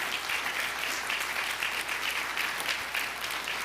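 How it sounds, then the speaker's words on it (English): Steady applause from the audience at a city commission meeting, dense and even, holding at a constant level from start to finish with no voices rising above it. "if we could all give a big round of applause for Margie Hedlund"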